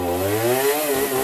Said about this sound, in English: get the random urge to hit the rev limiter on your chainsaw